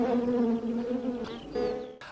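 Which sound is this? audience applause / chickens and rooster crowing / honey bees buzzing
honey bees buzzing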